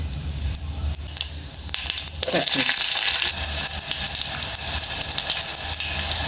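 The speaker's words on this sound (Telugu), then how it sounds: "ఆయిల్ వేడి అయిపోయిందండి కొంచెం జీలకర్ర చిటికెడు జీలకర్ర వేసుకున్నాం కదండి చిటికెడు చిటికెడు ఆవాలు ఎండుమిర్చి" Cumin, mustard seeds and dried red chillies sizzle steadily in hot oil as a tempering for tamarind rasam, a dense crackling hiss that grows louder partway through and continues up close with no talking.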